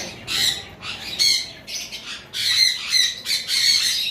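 Harsh, shrill lovebird squawks in rapid bursts, close and loud, repeating with short pauses between calls.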